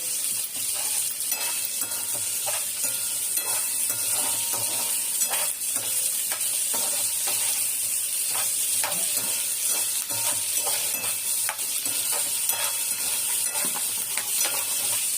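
Onions and a little tamarind sautéing in a pan for coriander chutney, a loud, steady sizzle with frequent scraping strokes of a spatula stirring the pan, close up and uninterrupted.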